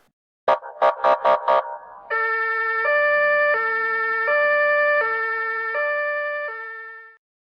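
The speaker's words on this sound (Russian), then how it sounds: "Полицейская машина." A cartoon police car siren sounds loud and close: a short burst of rapid whoops gives way to a steady two-tone wail alternating high and low at an even pace for about five seconds, with no other sound.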